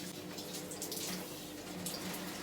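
Rye flour and water mixture poured through hair while washing the scalp, a continuous close rushing splash of running liquid with no pauses.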